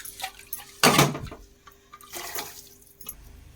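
Water left over from rinsing a pressure cooker is poured into a cooking pan, giving a loud splashing gush about a second long, followed later by a softer second pour and a few drips.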